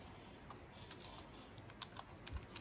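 Soft, quick keystrokes on a computer keyboard tap out an uneven rhythm, quiet and close, with no talking.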